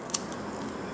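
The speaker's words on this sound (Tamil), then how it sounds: "உடைச்சும் காமிக்கிறேன்" One sharp snap of a crispy fried pepper button snack breaking, quick and close, then quiet.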